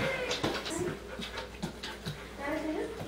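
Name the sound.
dog panting during obedience training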